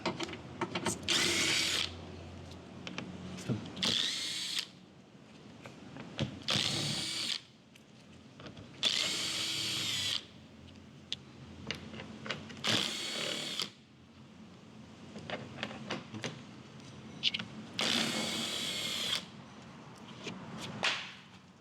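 Cordless power tool spinning out 10 mm bolts from an engine cover on a Kia Optima, a series of sharp whirring bursts, each a second or two long, separated by pauses with small clicks and handling noise, close and fairly loud.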